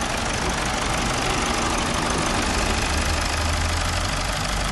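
A car engine idles steadily nearby, a constant low rumble with a faint rattly texture and no change in pace.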